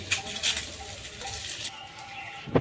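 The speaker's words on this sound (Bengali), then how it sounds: "ডালিয়াটা দিয়ে ভেজে নিচ্ছি" Dry broken wheat sizzles and rustles in a hot pan, with stirring scrapes and a few sharper clinks, steady and close throughout.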